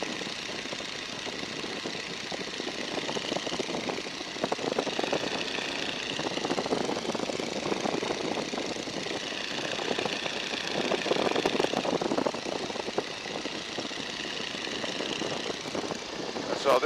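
A 1942 Boeing N2S-2 Stearman biplane's engine drones in level flight at about 1,750 RPM and 1,500 feet, a steady, loud, close roar that holds throughout without a break.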